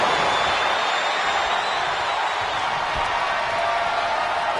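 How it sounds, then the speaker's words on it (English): Capacity arena crowd in a WWE wrestling video game, a dense sustained roar of cheering that stays loud and steady throughout, with no clear gaps or distinct voices rising above it. "you hear this capacity crowd following you on that journey"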